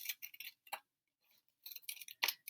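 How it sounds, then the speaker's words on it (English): Scissors snip through paper while a paper antenna is cut out for an alphabet letter B craft book, giving several close, crisp cutting bursts with a short pause in between. "So now I'm going to cut out the antenna."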